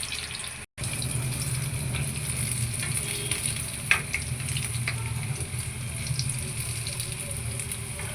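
Pork kebabs frying in hot oil give a steady, even sizzle that holds for the whole stretch, close and fairly loud, with one brief dropout and a single sharp tick partway through.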